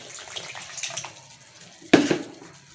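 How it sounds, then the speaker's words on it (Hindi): Water poured into a pot of harira soup to thin it, a sudden splashing gush around two seconds in after quieter kitchen background, close and fairly loud. "इसमें मैं और थोड़ा सा पानी डालूंगी ताकि इसको मैं पतला कर सकूं।"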